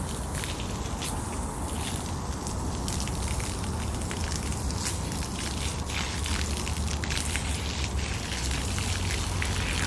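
A JM1000 jetter blasting a hydrojetting water spray across the ground and sidewalk to wash away grease, a steady, close, loud rushing hiss with spattering droplets throughout.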